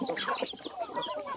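Farm chickens, many of them broody hens, cluck and chatter in quick overlapping bursts close by, a busy flock sound with no talk over it.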